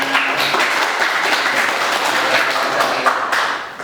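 Class audience at a university lecture applauding, a steady dense patter of many hands clapping throughout, fairly close and loud, fading slightly at the end.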